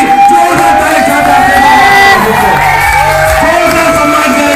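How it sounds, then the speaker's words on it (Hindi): An audience at an RCM business gathering cheers loudly, with continuous crowd roar, whoops and shouts carrying through the whole stretch at close, full volume. "आपको जोरदार ताली साथ में जबरदस्त वॉलंटियर मिस्टर गणेश कश्यप जी, जोरदार ताली साथ"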